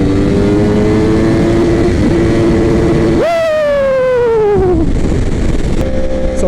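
A Yamaha R1 motorcycle accelerates hard, its engine pitch climbing through a gear, then leaping sharply on the next shift and winding up again, loud and close under heavy wind rush.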